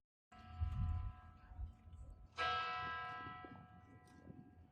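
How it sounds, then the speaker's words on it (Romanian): Church bells ring out the six o'clock hour in a small Danube valley village, a sustained metallic peal with a second louder strike midway whose tone rings on and slowly fades; a voice speaks briefly at the start. "Bat clopotele de la ora 6."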